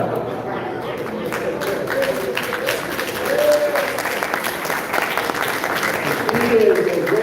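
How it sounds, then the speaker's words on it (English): A round of applause for attorney Bridget at a celebration of Fred Gray receiving the Medal of Freedom, steady crowd clapping that swells midway and again near the end, with voices and cheers mixed in. "Let's give her a round of applause."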